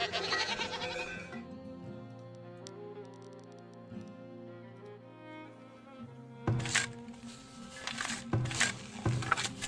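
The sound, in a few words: goats bleating in Farthest Frontier video game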